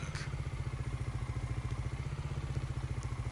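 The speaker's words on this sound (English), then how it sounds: "you can obviously hear the Mahindra's engine still running" A Mahindra tractor engine idling in Farming Simulator 19, a quiet, even, rapid low chug pulsing steadily throughout with no other sounds.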